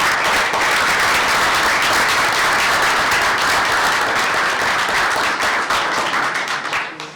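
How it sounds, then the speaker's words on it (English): A board meeting audience applauds a student being recognized, steady full-room clapping that holds loud for about seven seconds before tapering slightly at the end. "Let's give her a round of applause."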